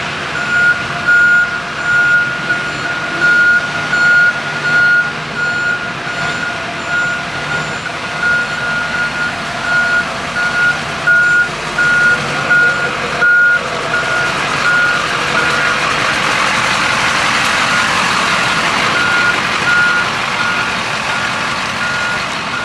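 A Forest Service green ZF6 Duramax truck reverses with a steady, loud, evenly spaced backup beep over a low engine hum, with no talking.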